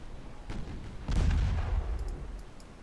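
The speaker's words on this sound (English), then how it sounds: "There we go. 2 torpedoes. Good broadside hits." Naval gunfire from broadside hits in the warship game Ultimate Admiral Dreadnoughts, set in 1895, with a soft thud then a heavier booming blast and rumbling decay, moderately loud with no talk.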